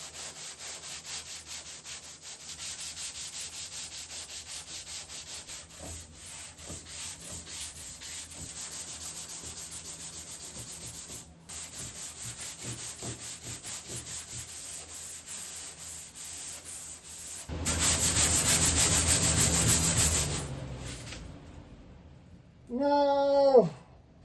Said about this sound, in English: I'm gonna go ahead and use a foam block and some 80 grit sandpaper to get all the high spots down